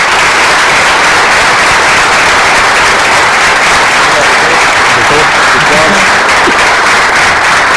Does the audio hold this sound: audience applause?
yes